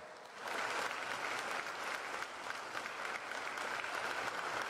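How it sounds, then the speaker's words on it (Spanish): Audience at a Tijuana civic event for a government oversight office claps steadily and fairly loudly, a dense continuous applause that starts abruptly and holds for several seconds. "Más fuerte el aplauso, Tijuana,"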